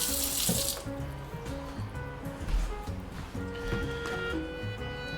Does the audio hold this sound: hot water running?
yes